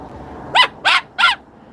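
Three loud, harsh squawking calls from a Moluccan cockatoo, evenly spaced and close, with quiet between them.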